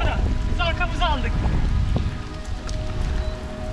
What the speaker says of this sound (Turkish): Yağmura yakalandık.